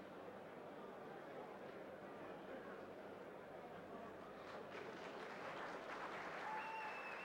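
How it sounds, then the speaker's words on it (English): A crowd at a heavyweight boxing fight at Carousel Casino in South Africa applauds the boxers with warm, sustained clapping that swells toward the end, with voices mixed in. "gets a very warm reception from the crowd"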